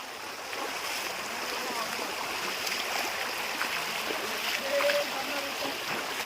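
Verna waterfall in Goa gives a continuous broadband rush of falling water, steady throughout, with voices talking over it.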